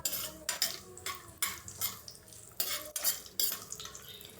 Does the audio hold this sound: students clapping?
no